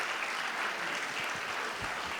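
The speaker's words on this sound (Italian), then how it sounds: "un applauso bello voglio per loro" Applause from an audience for a folk group in traditional costume, dense steady clapping filling the whole stretch at an even level, with no voices over it.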